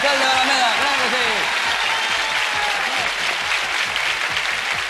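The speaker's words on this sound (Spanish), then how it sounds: "la ovación para el alcalde de Alameda" An ovation from a television game-show audience for the mayor of Alameda on Grand Prix del verano, dense continuous applause rolling on for several seconds with a voice speaking briefly at the start.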